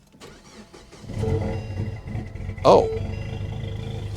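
A Ford Mustang engine cranks and catches at a car auction lot, a sudden loud roar bursting in after a low rumble, then settling into a steady idle; a brief voice exclamation sounds just before.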